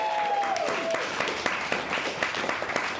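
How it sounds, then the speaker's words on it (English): Audience clapping fills a small improv theatre in Glasgow, a dense, steady round of applause with a few brief voices and whoops mixed in. "Let's give a round of applause."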